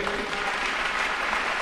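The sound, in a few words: church congregation applauding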